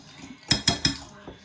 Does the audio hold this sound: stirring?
yes